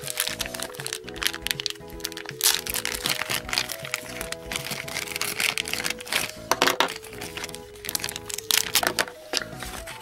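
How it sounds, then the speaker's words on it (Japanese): Packaging of a Katasoul toy is opened, with crackling and crinkling plastic and paper in busy bursts up close, while music plays underneath and a voice talks. "それではね、開封していきたいと思います。"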